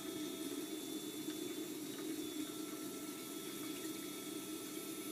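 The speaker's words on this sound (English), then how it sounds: "that pump does not like to go to 105 at 12 volts" Genesis 2 liquid pump running at 12 volts, a steady continuous watery whir with a constant high whine, unbroken and fairly quiet throughout.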